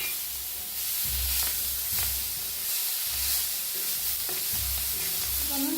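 Chilies and peanuts roast in a pan under a continuous sizzle, with a spatula stirring them in repeated scraping strokes about once a second.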